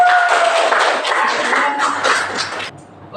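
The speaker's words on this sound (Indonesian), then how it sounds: "Tepuk tangan dulu untuk materi." Classroom applause from students during a micro-teaching lesson on civic education at a university, a dense burst of many hands clapping that carries on for under three seconds before dropping off, with no one talking over it.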